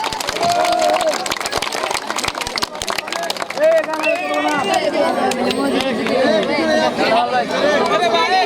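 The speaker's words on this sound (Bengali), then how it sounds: "রানার আপ টিমের জন্য একটা হাততালি সবাই" A crowd at a village football tournament prize ceremony in Rasulpur claps for the runner-up team, dense applause mixed with loud chatter and a voice over a PA throughout.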